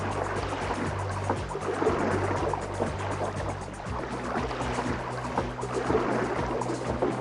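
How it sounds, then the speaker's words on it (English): A Yamaha F175A four-stroke outboard idles on a boat with a steady low hum, mixed with continuous water lapping and splashing around the hull. "It's got the SDS prop, it's got a limited clunk when it goes into gear, and it just idles really nicely."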